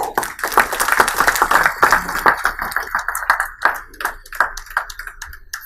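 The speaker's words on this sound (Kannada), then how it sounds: "ಕವನ MH ಜೋರಾದ ಚಪ್ಪಾಳೆ" An audience at a school founding-day ceremony claps loudly and continuously for a student receiving an endowment award, with dense, sharp handclaps close by and no one speaking.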